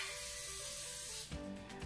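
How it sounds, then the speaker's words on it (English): Cooking spray hissing into an 8x8 glass baking dish, one continuous close spray burst lasting over a second, then a short rattle and clatter as the can is set down. "So I like to spray my baking dish, so I'm just using an 8x8 glass."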